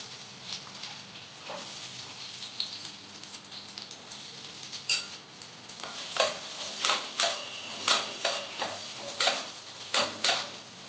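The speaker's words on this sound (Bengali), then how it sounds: "এবার আমি কাজুগুলোকে ভেজে নিচ্ছি" Cashews frying in hot ghee in a wok, with soft sizzling under a run of sharp scraping and stirring clicks that grow more regular and louder toward the end.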